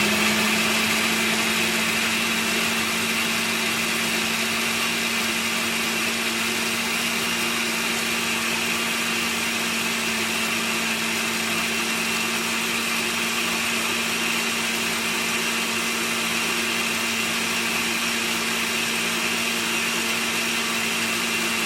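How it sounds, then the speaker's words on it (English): Blender blending salsa, a steady loud motor whir with a constant hum, running without pause for over twenty seconds; no talking. "I put it on the blender and we're gonna blend it up really quickly."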